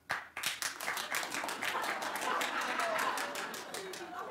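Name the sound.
audience clapping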